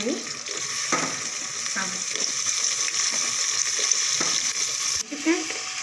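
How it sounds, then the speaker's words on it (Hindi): Potatoes tipped into lightly browned onions frying in a pan set off a continuous sizzle, with repeated scraping strokes of a spoon stirring roughly every second, close up, and a brief voice near the end. "देखिए हमारा प्याज जो है हो गया है हल्का ब्राउन, इसमें हम आलू डालते हैं"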